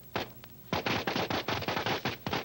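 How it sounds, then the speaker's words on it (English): Fireworks at a Fourth of July celebration go off in a fast series of sharp cracking bursts, loud and close, with a short gap after the first blast and then a rapid rattling volley. "The fireworks went off with a bang and a swoosh."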